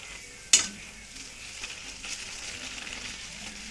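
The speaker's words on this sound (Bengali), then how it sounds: "গ্যাসটা একটু মিডিয়ামে রেখে ভাজবেন," Dal puri frying in hot oil over medium gas flame, a steady soft sizzle running throughout after one brief sharp clatter near the start, fairly quiet with no talking.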